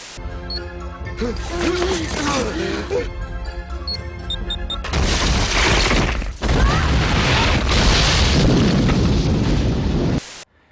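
A loud, rumbling movie explosion in the mountains with a sustained roar of debris after a short music-like passage, booming twice before cutting off abruptly.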